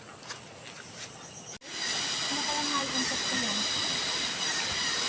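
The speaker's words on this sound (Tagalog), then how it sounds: "Rinig na rinig mo yung ilog." A river heard from a narrow mountain trail near a waterfall, a steady broadband rush that starts abruptly partway through and then holds loud and constant, with a faint voice underneath.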